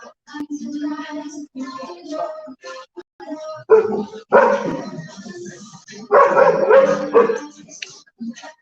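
Several dogs barking outside during an indoor class, bursts of repeated barks and yips rising and falling over several seconds, some near and loud, with brief whimpers between.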